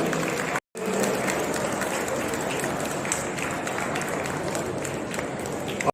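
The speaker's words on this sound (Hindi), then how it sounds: "तालियां अगर हो जाए दोस्तों सम्मान में तो और अच्छा होगा।" Audience applause in honour of soldiers at a Kargil Rajatam memorial event at Expomart, a dense, steady wash of many hands clapping for the full duration, broken only by a brief dropout near the start.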